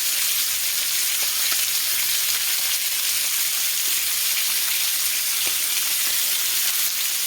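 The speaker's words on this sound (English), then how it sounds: "while it's on the second side, I'm going to add some garlic and some thyme" A ribeye steak sears in a hot pan with garlic and thyme, giving a loud, steady, dense sizzle that runs unbroken throughout, with faint crackles and pops scattered through it and no voices.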